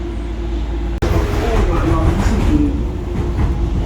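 A DLR train running between Lewisham and London City Airport rumbles steadily from inside the carriage, loud and close with a brief dropout near the start, while a person talks over the noise.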